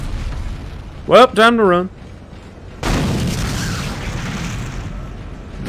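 In the Dead Space video game, someone speaks briefly, then a deep, heavy explosion rumble bursts in and rolls on at length, loud and booming.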